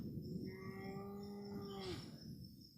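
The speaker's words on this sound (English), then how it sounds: "As you can see behind me, there's too many cows to count." A single cow in a herd on an Alaska farm lets out a long, drawn-out moo lasting a couple of seconds, faint and somewhat distant over low background noise.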